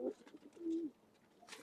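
Pigeons of an old bloodline breed giving a short soft coo, a low hollow call repeated once or twice close by in an otherwise quiet space.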